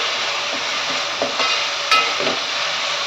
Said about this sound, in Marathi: पेस्ट आपण तेलामध्ये छान परतून घ्यायची